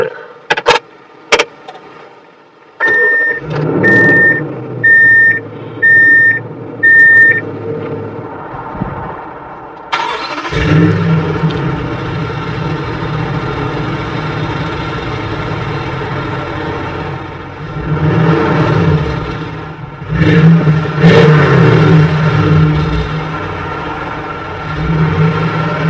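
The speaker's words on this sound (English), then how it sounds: "all you have to do to start it up is just stick the key in and turn it" A 2018 Toyota Tundra SR5 pickup chimes in a short run of beeps as the key goes in, then cranks and fires up into a steady idle, with a couple of swelling revs near the end.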